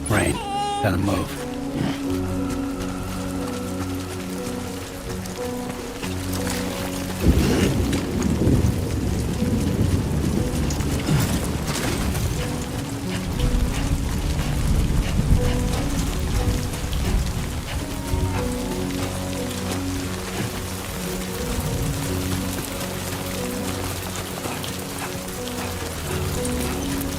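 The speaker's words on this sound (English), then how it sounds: "Great. Rain. Gotta move." Steady rain falls in the video game Death Stranding 2, a continuous wash of drops on surfaces under a bed of low ambient game music, with brief heavier swells midway.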